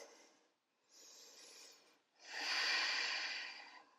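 Breathing during a yoga standing split, two close, soft breath sounds, a shorter inhale then a longer, fuller breathy exhale, heard alone with no talk.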